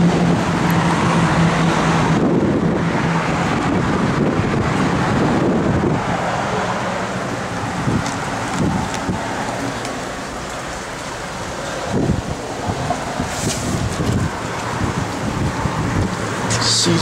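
Strong gusty wind buffets a microphone outdoors beside a 1949 Chevrolet 5-window 3100 pickup truck, a loud continuous roar and rumble that swells and eases, with rain-like hiss and occasional knocks and no talking.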